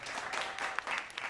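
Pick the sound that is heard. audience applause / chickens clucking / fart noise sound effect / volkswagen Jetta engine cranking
audience applause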